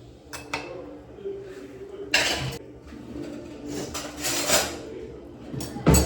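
A frying pan clanks onto a stove and oil goes in while an egg curry is started, with a few sharp metallic knocks and scrapes and brief pouring noise between quieter gaps.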